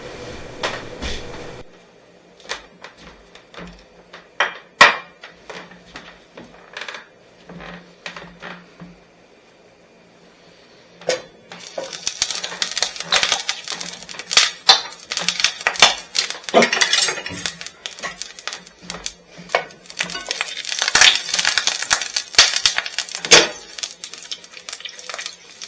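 Steaks go into a pan of melting butter. A quiet stretch of clinks and utensil knocks is followed by a loud, crackling sizzle that keeps surging and fading, close up with no talking.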